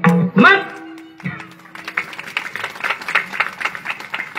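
Clapping during a kirtan: after a short burst of speech, a run of quick, fairly even hand claps at moderate distance continues to the end.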